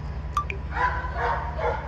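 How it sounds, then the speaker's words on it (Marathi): Two dogs aboard a large ferry-type ship bark a few short times over a steady low engine drone, fairly close but not loud, with a brief higher yip near the start. "हे 2 कुत्रे कुठे चालले आहेत?"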